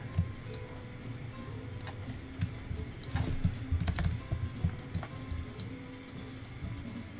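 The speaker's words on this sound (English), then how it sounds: "Plus, I'm typing these," Rapid, irregular clatter of keys on a computer keyboard, close and steady with occasional louder clusters of keystrokes and no voices.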